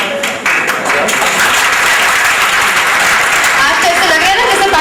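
A prize show audience breaks into loud, sustained applause that swells quickly after a brief start and holds at full strength. Cheering voices blend into the dense clapping.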